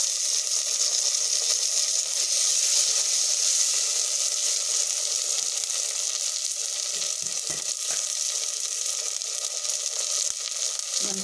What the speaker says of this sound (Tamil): இப்போ கொஞ்சம் ப்ரௌன் கலர் ஆக வரைக்கும் வதக்கிக்கலாம்